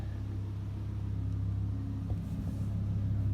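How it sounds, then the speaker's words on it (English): A Lamborghini Gallardo with a VF Engineering TCU tune rumbles steadily at close range, its deep, even engine drone unbroken, with a slight swell near the end and no voices. "driving the Gallardo, gonna see its clamping abilities"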